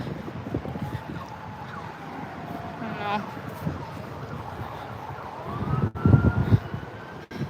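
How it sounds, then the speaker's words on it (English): A siren wails faintly in the distance, rising and falling slowly over heavy wind buffeting the microphone, with a few louder thumps toward the end. "we got now a siren going"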